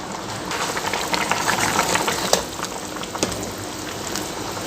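Rajasthani gram flour curry bubbling in a pan, a steady close simmer of popping bubbles with a few sharper pops and spits.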